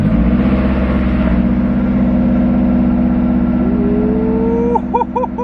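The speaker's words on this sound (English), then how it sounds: "Cold start, boys." A car fitted with new bolt-on modifications cold-starts: a steady, loud engine drone near the microphone, with rising revs toward the end and no talking over it.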